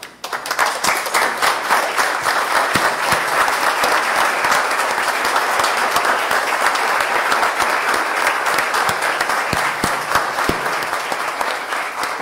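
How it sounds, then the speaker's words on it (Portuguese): Councillors and guests give sustained, loud applause for five honorees at a solemn municipal council session, dense clapping from many hands filling the room steadily from start to finish. "uma salva de palmas aos 5 homenageados hoje nessa casa"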